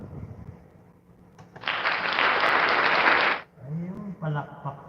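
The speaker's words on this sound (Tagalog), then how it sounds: "Ayun, palakpak pala yun." About two seconds of applause, a dense burst of clapping that starts and stops abruptly, with a voice talking before and after it.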